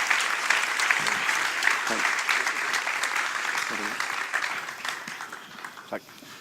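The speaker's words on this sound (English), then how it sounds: "So a warm round of applause." After startup founders speak at an event, a warm round of applause rises from the audience, a steady crowd clapping with faint voices underneath that tapers off toward the end.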